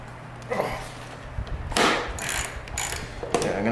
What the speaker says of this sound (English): 12 mil socket to get those guys out.